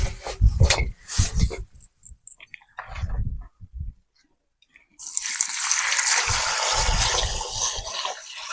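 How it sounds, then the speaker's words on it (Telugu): Spinach leaves are washed in water for an egg curry, with someone talking at first, then a sudden steady rush of pouring, splashing water that continues loudly to the end. "ఇప్పుడు ఈ పాలకూరని అయితే నీళ్లు పోసుకొని నీట్గా అయితే కడుపుకుంటాం"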